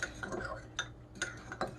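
Eggs are stirred gently by hand with a utensil in a container, soft sloshing with a few sharp clicks of metal against the side at uneven intervals, close and fairly quiet.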